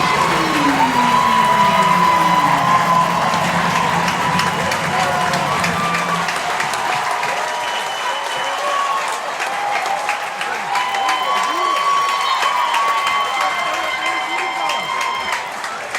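A crowd at a high school football game cheers, claps and yells loudly and continuously after a touchdown catch in the end zone, a broad roar that eases slightly but holds throughout.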